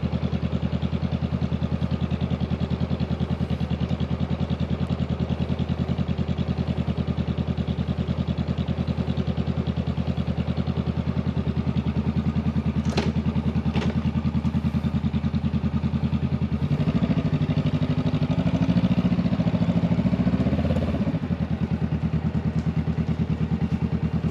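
A cruiser motorcycle engine runs steadily as a new rider sets off on a ride, a low, even throb that holds close and constant and swells briefly near the end.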